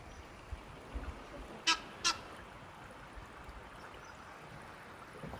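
Two short, faint honks from Egyptian geese at a large coastal rock on the Wild Coast of the Transkei, a quick pair over a constant low wash of surf and wind.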